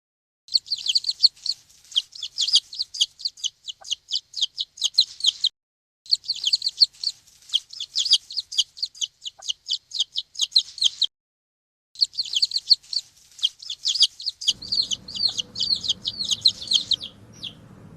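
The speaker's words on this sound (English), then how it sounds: "Chick." A young chick peeps in quick, high, repeated chirps, close and clear, in three long runs separated by short pauses, with a low rumble entering near the end.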